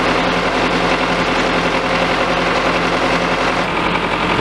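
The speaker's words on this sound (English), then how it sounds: "After this, you start to drill the first drilling pipe." A drilling rig engine runs steadily while drilling pipe, with a loud constant droning hum and mechanical rattle, unchanging throughout, like heavy machinery working nearby.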